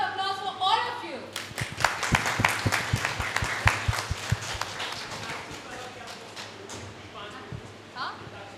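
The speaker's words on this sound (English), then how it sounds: "big round of applause for all of you" A roomful of listeners at a talk claps in a burst of sharp, fast hand claps that peak early and thin out toward the end. Voices talk briefly at the start and again near the close.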